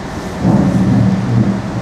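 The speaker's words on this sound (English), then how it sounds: "A little bit of rain." Steady rain hisses in a continuous wash at the Vampire roller coaster lift at Chessington, with a low rumbling undertone throughout.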